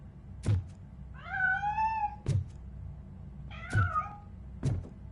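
A cat meows in the RoboCop Rogue City video game, two drawn-out, wavering calls separated by sharp knocks or thuds, fairly close and clear against a quiet background.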